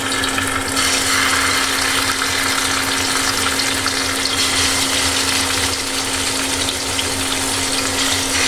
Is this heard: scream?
no